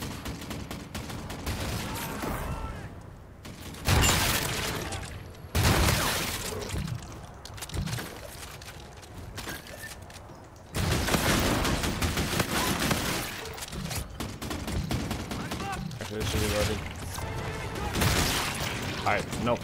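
Shotgun blasts ring out in Call of Duty: Infinite Warfare's Infected mode, loud broadband bursts at irregular intervals over continuous game noise, with a player talking throughout.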